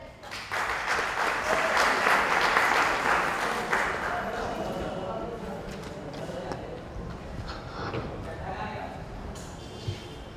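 An audience at a group dance audition in Surat claps loudly. The applause swells early, then slowly fades into scattered claps while a voice talks over it.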